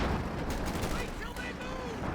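An anti-tank grenade blast in Company of Heroes 2, a dense burst of battle noise with sharp cracks amid steady gunfire, voices faintly mixed in.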